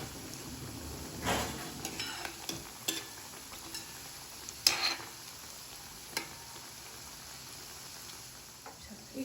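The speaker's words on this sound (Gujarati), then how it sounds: "માપનું તેલ આવ્યું એને એ રીતે તળવા મૂકી દઈશું" Food frying in a measured amount of oil for a child's lunchbox dish, a soft, continuous sizzle punctuated by several louder crackling bursts as pieces are stirred or added.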